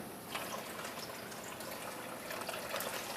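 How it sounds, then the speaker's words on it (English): Water steadily filling an indoor turtle pond aquaponics biofilter with a bell siphon, a soft continuous gush and trickle at moderate level with no talking. "I fill it up with water up to the level"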